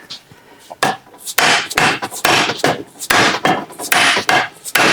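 Repeated hammer blows on a belt grinder's metal platen bracket: sharp, loud, ringing strikes in irregular bursts, close up, with brief pauses between groups of hits.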